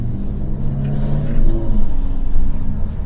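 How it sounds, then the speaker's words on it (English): Steady low rumbling roar of wind buffeting inside a moving Honda Pilot with a window down, loud and continuous with slight surges, no voices. "Put that window up over because there's wind noise."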